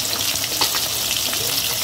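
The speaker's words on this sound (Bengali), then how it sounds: "আর আমি এখন মাছ ভাজছি।" Fish fries in a pan in a home kitchen, a dense, continuous close sizzle and crackle with no talking.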